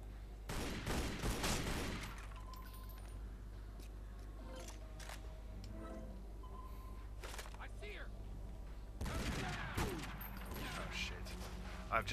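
Turret gunfire in Tomb Raider Legend, rapid bursts of automatic fire near the start and again later, with quieter game ambience and voices talking between them.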